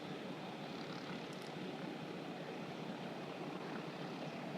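A T-34 propeller trainer plane lands at an airfield, heard as a steady, droning engine roar with broad rushing wind noise, moderately distant and unchanging in level, with no voices.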